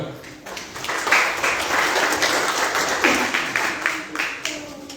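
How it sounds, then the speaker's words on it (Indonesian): A church congregation at a worship service applauds, a steady wash of many hands clapping that swells and pulses with a few louder nearby claps, voices faintly audible underneath. "Dan dari tepuk tangan untuk Tuhan."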